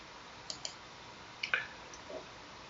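A few sharp mouse clicks in Excel: two quick light clicks, then a slightly louder pair about a second later, with a faint tick after, all close and dry against a quiet room.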